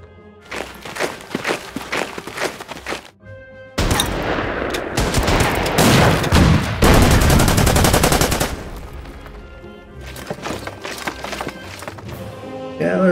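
Gunfire in the WW2 strategy video game Order of Battle WW2, heard as bursts of rapid shots and a dense, loud volley in the middle, with sparser shots before and after.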